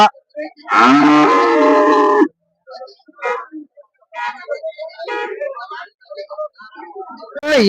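A cow gives a long, loud moo close by, followed by people talking in short bursts amid a busy outdoor cattle market in Honnali.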